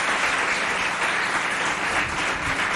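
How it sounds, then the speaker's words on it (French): A school event audience applauding to greet a guest doctor, loud, dense crowd clapping that holds steady throughout without a pause, with no speech on top. "je vous demande de saluer par des applaudissements"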